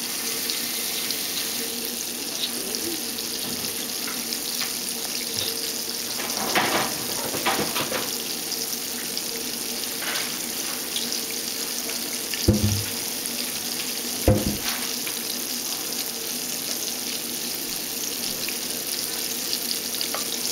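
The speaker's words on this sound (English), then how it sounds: "so it's cooking, it's simmering" Chicken parmesan simmering in a pan on the stove, a steady soft hiss running the whole time, with a few louder clinks and bursts of activity in the middle and no talking.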